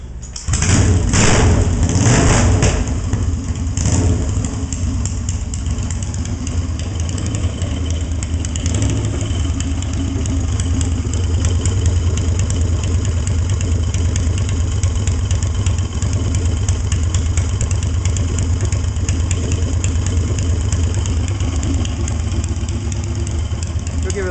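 A Yamaha XS650 motorcycle with a rephased long-rod engine and Yo Mama exhaust is kick-started and settles into a loud, steady, throbbing idle close by, with a few sharp bursts at the start and a person talking underneath.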